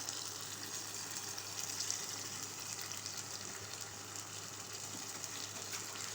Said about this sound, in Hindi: अब ये हमारे आलू यहाँ सौते हो गए हैं।